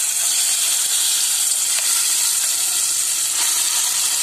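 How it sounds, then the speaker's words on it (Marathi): Loud, continuous sizzling of ground dhaba-style sukka chicken masala paste frying in hot oil, a bright crackling hiss with occasional stirring sounds. "मसाला मिक्सरला लावून घेतलाय, तो आता मी या तेलात टाकणार आहे।"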